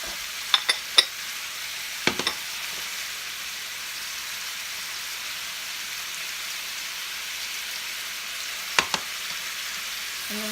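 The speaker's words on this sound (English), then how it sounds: "So my meat is browning really nicely" Ground meat browning in a pan gives a steady, moderate sizzle with a few sharp scraping clicks from stirring scattered throughout.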